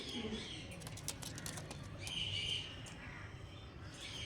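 Pigeons, including old-line gauge birds, cooing and chirping softly at close range, with occasional wing flutters and faint background noise.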